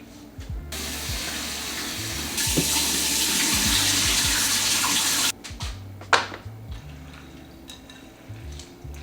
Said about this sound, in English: We're gonna rinse these beans, y'all, and then we're gonna just put some water in it